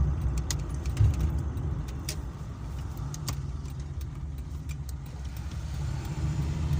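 A 1982 Toyota Corolla KE70 drives in traffic, heard from inside as a steady, close low rumble of engine and road noise, with scattered light clicks and rattles and no talking.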